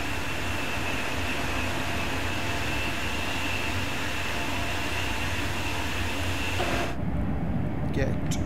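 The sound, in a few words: passing train in the video game Train Sim World 3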